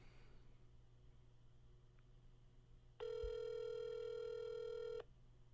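A telephone call being placed, a quiet low hum, then a bright electronic dial or ring tone holding for about two seconds before cutting off, fairly loud against the hush, with no talking.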